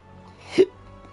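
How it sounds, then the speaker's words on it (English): A single short, close burp, brief and low amid quiet room tone. "Burp."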